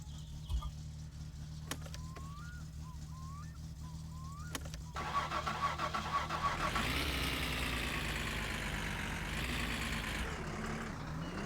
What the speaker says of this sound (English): Why are you saying my car sounds miserable, Trim?